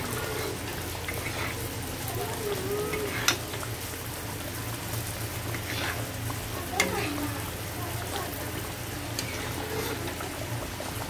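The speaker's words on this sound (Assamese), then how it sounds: "নমাই এতিয়া এইখিনি ভাজি ল'ম" Food frying in a pan while paneer is being cooked at home, a steady sizzling hiss with a couple of sharp stirring clinks, continuous and moderately close.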